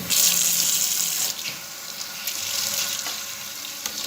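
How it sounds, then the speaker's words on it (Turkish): Tap water runs steadily over a computer motherboard being washed under an ordinary faucet, a close, hissing splash that shifts in tone as the board moves through the stream, with no talking. "Bu anakartı yıkayacağım şimdi."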